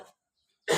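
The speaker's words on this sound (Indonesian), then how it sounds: "Minta maaf ya Ustaz agak batuk" A single short, sharp cough, close and loud, following a brief pause of silence, during a speech at a Maulid Nabi school event.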